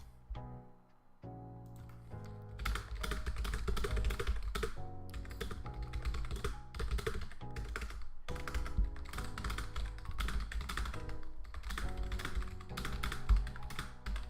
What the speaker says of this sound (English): I'm just showing you my typing.